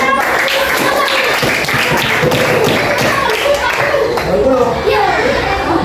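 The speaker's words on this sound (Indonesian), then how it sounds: "Oke, tepuk tangan dulu." A fifth-grade class claps for the winning quiz group, lively uneven clapping mixed with children's chatter and voices throughout.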